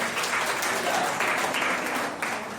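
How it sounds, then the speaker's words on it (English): A group of students applauding in a classroom, a dense, even patter of many hands clapping at once that carries on without a break for a few seconds. "Clap for you, very good."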